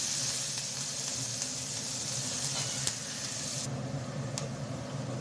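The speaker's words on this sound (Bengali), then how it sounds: "খানিকটা পেঁয়াজ কুচি খানিকটা কাঁচামরিচ কুচি ভালো করে লাল লাল করে ভেজে নেব" Continuous crackling sizzle of chopped onion and green chili frying in oil until browned, steady and close, with occasional sharper pops and spatters.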